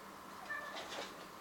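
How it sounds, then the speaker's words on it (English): A cat gives a single short, faint meow in a quiet room. "So that's our cat, Toby."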